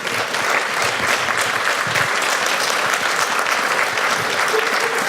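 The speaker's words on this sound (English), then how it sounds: "please, a round of applause for these folks" Conference plenary audience gives a warm round of applause, steady dense clapping from a large room held at an even level throughout.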